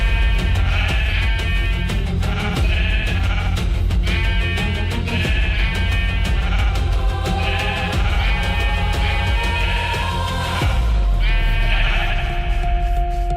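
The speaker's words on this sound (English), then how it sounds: "sounds of the sheep are becoming overwhelming" Sheep in a video game bleat over and over, loud and close, a dense overlapping chorus that keeps going throughout with a steady noisy bed underneath, then a lone sustained tone rises near the end.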